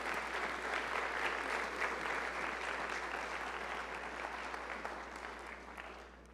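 An audience at a university opening session applauds in a sustained, dense wash of clapping that stays even, then slowly tapers toward the end.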